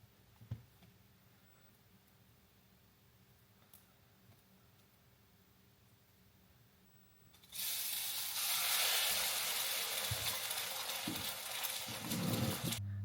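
Loaded French toast made from three slices of toast and six eggs, frying in a pan and breaking into a loud, steady sizzle after a quiet stretch of faint kitchen noise.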